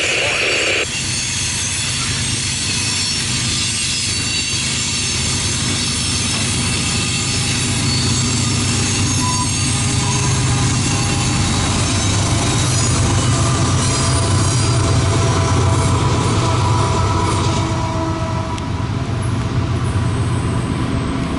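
A CSX loaded coal train with helper locomotives rolls past nearby, a continuous heavy rumble of wheels and cars with intermittent squealing that builds steadily over twenty seconds.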